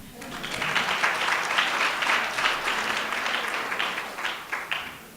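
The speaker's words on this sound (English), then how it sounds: "And yes, you should clap for that." Audience applause and clapping from a political rally crowd, sustained and steady for about five seconds, with a few faint voices mixed in.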